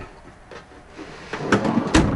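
A couple of short wooden sliding thumps, a drawer being pushed in and pulled in a Bongo-based camper van at a camping car show, close and fairly clear with quiet room sound between.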